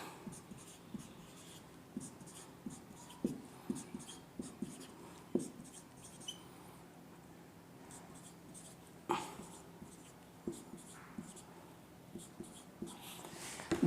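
Pen or pencil writing notes by hand on paper: a steady run of close scratchy strokes, with sharper taps and pauses between words, some stronger marks standing out, no speech.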